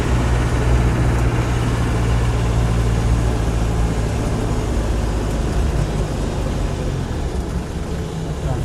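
Land Rover 90 hardtop with a 200Tdi diesel engine running, a dense, steady low rumble heard from close by and filling the whole stretch without pause.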